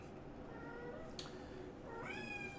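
A house cat meows twice in the background, a faint drawn-out call followed by a rising second meow, over quiet room tone.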